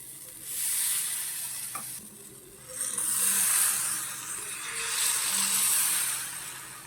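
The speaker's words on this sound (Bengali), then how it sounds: "দেখুন কি সুন্দর ভাজা হয়ে গেছে।" Palm patishapta pancakes fry in a pan with a soft, swelling sizzle that rises and falls in waves, close up and without speech.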